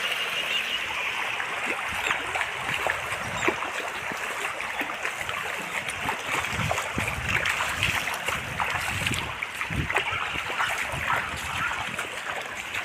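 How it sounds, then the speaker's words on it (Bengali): Floodwater flows across a flooded stretch of the Hailakandi–Silchar Medical road, a continuous rushing, trickling wash with occasional splashes, fairly close and steady throughout. "চারিদিকে পুরা জল জল জল।"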